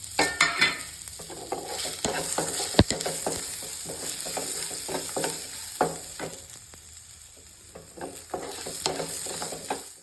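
Onions and curry leaves fry in a pan for a curry sundakkai chutney, with a steady close sizzle and repeated sharp scrapes and taps of a spoon stirring through it for the whole stretch.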